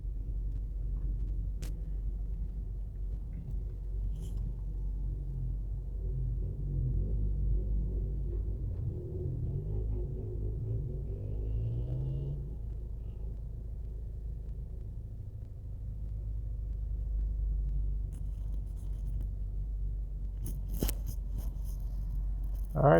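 Steady low road rumble of traffic near a busy plaza in Savanna-la-Mar, Jamaica, where taxis park to pick up and drop off people, with passing vehicle noise swelling mid-clip and a few faint clatters near the end.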